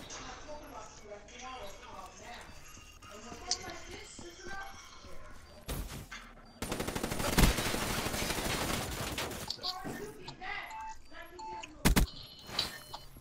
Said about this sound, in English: I hear a shotgun